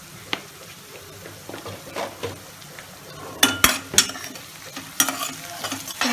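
Onions frying in a pan with a lid being set over them while an Andhra-style raw prawn and cucumber curry is cooked, giving a low steady sizzle broken by several sharp clinks of metal lid and utensil against the pan.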